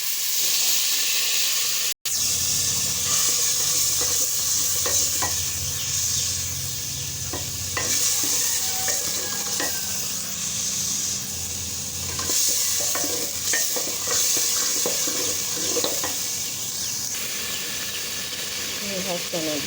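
Ginger-garlic water hits a hot pan while black chickpea pulao is stir-fried, giving a loud, steady sizzle and hiss with steam and repeated stirring scrapes, briefly cut at the start.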